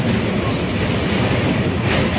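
A loud, dense rumble of a train rolling over a bridge at Kashighat, with steady clattering wheels and a hollow roar filling the whole clip.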